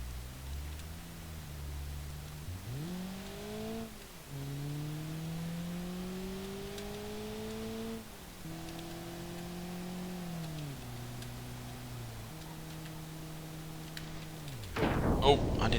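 Corvette driven in the video game BeamNG.drive, its engine note climbing through gears in steady rising sweeps with shift breaks, continuous and fairly close, ending in a louder burst of noise.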